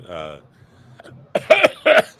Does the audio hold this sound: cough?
yes